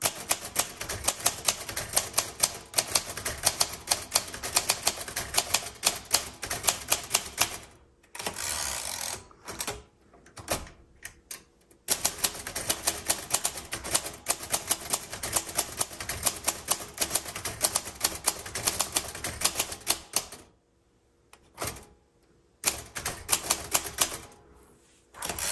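Keys clack steadily on a 1938 Royal Model O manual typewriter in dense bursts of rapid strikes, broken by a few short pauses, close and crisp with no talking.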